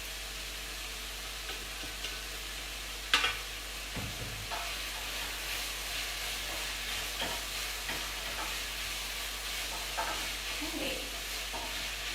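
Onions softening with homemade Thai green curry paste in a pan, a soft even sizzle with occasional stirring scrapes and a clank, a low steady hum underneath and a brief spoken word.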